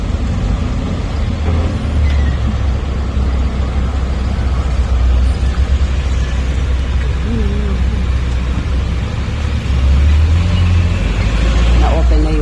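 Heavy road traffic in Pampanga, Philippines, heard from a moving car: a constant low engine and road rumble from cars, buses and trucks, with a brief hiss of air brakes and people talking over it.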